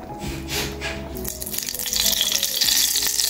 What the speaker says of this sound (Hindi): आतां पॅन हिंगा गरम जालें आनी हितून हांव घालता आमची अमूल घी घालया म्हणटा